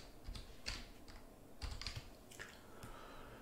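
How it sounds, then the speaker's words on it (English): Keystrokes on a computer keyboard, quiet and near, in short irregular bursts of taps with brief pauses between them, no talking. "So, let's type that in."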